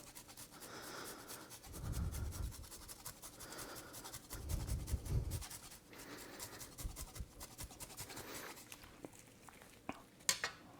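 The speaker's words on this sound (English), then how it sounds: "I'm just going to grate on some aged Parmigiano Reggiano" Aged Parmigiano Reggiano is grated over a sausage ragu pasta sauce, with a few quiet, close rasping strokes and light scratching.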